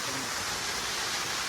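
Falling water at Muthyala Maduvu waterfall in Anekal makes a steady, even broadband rush, fairly soft and continuous without any break.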